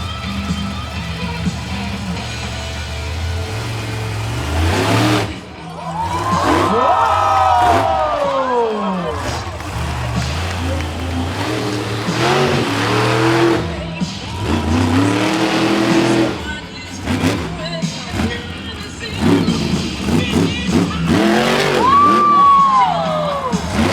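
At a Renegade Monster Trucks show in Gaithersburg, Maryland, a monster truck engine roars and revs hard through a wheelie, with sweeping pitch changes and a cheering crowd behind it.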